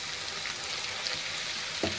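Onion and coarsely ground tomato frying in a pan for mutton kofta gravy give a steady, faint sizzle throughout, with one brief clink near the end.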